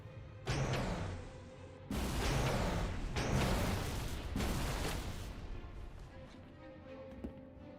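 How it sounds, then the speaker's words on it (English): Flak cannon firing in a modded Halo 3 map, four loud booming blasts in quick succession, each with a sharp onset and rumbling decay, followed by a quieter fading tail. "The sound of the Banshee Bomb firing, if I'm not mistaken, is also the sound of this flak cannon firing."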